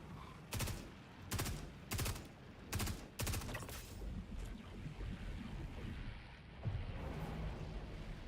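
Gunfire in the Star Citizen video game, with five or six sharp, close shots in a quick uneven series followed by a rumbling, noisy aftermath and one more distant thump.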